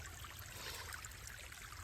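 Water trickles out of a hole in the rock along the Appalachian Trail, a soft, continuous splashing and babbling heard close by with no voices.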